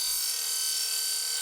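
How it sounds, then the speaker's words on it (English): A miter saw cuts black cladding corner pieces for a small robot lawnmower garage, giving a continuous loud, bright high-pitched whine across the whole short stretch with no talking. "I'm going to jump over to the miter saw and cut these down"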